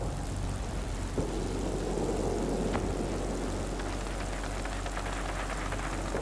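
A B-36 bomber's engines drone in World of Warplanes, a steady low propeller-engine rumble that holds constant throughout, with a faint brief whine near the middle.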